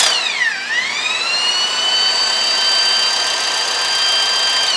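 A Land Rover 300Tdi engine turned over by a drill gives a loud, steady high whine that dips briefly in pitch at the start, then holds constant and close.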